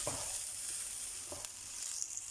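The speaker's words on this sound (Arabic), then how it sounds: "انا عايزاه يتشوح قوي، وبيكون متغلف بالزبدة ومع البصل تمام التمام" Rice fries in butter with onion in a pan, giving off a close, steady hissing sizzle broken by a few light scraping stir strokes, with no voices.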